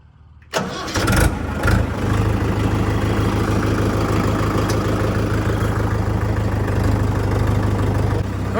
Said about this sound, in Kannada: ಬನ್ನಿ ಹಾಗೆ ಈ ಟ್ರ್ಯಾಕ್ಟರ್ನ ಓಡಿಸಿ ನೋಡೋಣ